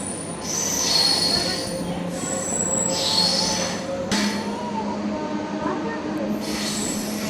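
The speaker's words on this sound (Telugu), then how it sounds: "నర్సరావుపేట నుంచి మన ట్రైన్ బయలుదేరిపోయింది" A MEMU passenger train pulls out of Narasaraopet station with loud, sustained metallic wheel squeals rising and falling over a steady rumble, heard from on board.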